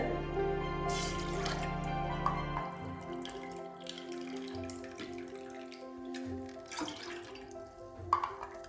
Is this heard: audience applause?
no